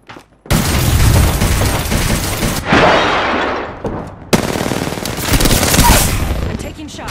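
Gunfire in the Apex Legends video game: sustained rapid bursts of automatic fire, loud and close, broken by a short gap and resuming, with some speech mixed in.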